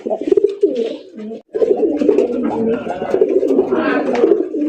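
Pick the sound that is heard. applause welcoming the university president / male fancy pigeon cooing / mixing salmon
male fancy pigeon cooing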